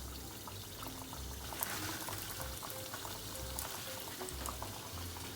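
Soya veg stick dipped into hot oil, giving a soft continuous sizzle and bubbling, fairly quiet and steady throughout.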